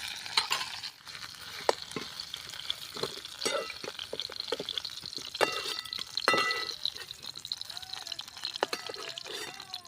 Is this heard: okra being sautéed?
yes